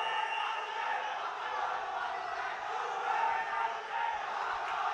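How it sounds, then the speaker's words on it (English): A large crowd roars and cheers steadily at a Robocon semi-final match in India, a dense, sustained wash of voices from a packed arena. "The crowd is going crazy here for the first semi-final match"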